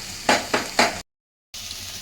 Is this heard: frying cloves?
yes